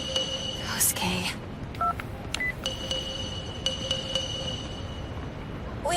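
Telephone keypad tones beep in a short series of distinct dialing pitches over a faint background hum, spaced irregularly across several seconds, with soft speech-like murmurs at times.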